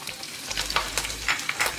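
Ten cloves of finely chopped garlic fry in hot oil for a Sadya-style ginger curry, giving a steady close sizzle and crackle with light stirring scrapes and no talk.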